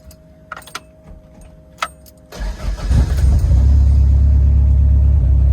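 Car engine cranking and catching after a long pause while the oil pressure gauge lags, with light key and interior clicks before it, then a loud, steady close idle rumble settling in.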